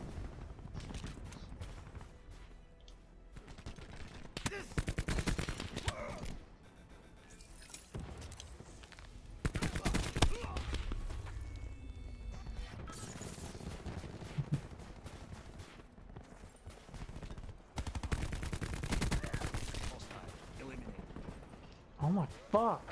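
Gunfire in Call of Duty Black Ops 4, several bursts of rapid automatic shots in separate clusters over about twenty seconds, with mechanical handling clicks between bursts and players talking over the game.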